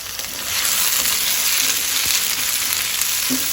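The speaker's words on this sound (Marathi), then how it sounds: "पॅन दवरून तातूंत 2-3 चमचे तेल घालून घेवया। 1 चमचो आले लसणीची पेस्ट" Ginger garlic paste frying in oil in a pan for a Goan squid chilly fry, giving a loud, continuous sizzle that runs throughout with a faint stir or two.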